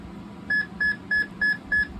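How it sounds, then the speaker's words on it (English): An Ademco 685 digital alarm receiver sounds an alert: five short, evenly spaced electronic beeps, clear and steady, with no talking. "So now you would silence the alert."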